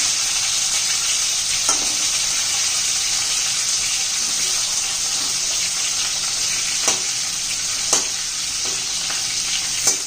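Stuffed bitter gourds fry in a pan with the lid lifted, a steady, loud close sizzle running throughout, broken by a few sharp clicks and knocks as the pieces are turned over.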